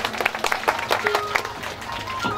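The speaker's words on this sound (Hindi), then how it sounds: "जोरदार ताली से मांग रहा हूँ।" Loud audience applause at a Srimad Bhagwat Mahapuran religious discourse, a dense burst of crowd clapping lasting a couple of seconds, close and full.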